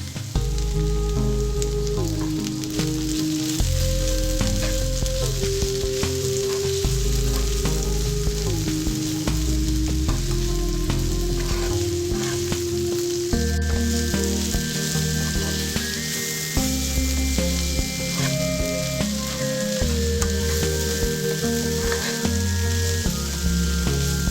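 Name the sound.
cluster beans (goruchikkudu) frying in a pan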